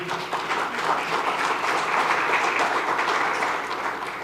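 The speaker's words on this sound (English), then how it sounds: "maybe a round of applause for these great people." A conference audience applauds, a dense, steady wash of clapping from many hands that holds for several seconds and then begins to fade.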